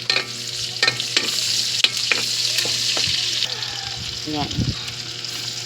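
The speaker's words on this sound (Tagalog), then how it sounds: "Dito ko na rin lulutuin yung bawang sibuyas." Chopped onion and garlic sizzle in a hot pan on a home stove while a spatula scrapes and stirs with repeated sharp strokes; a brief spoken word is heard over the frying.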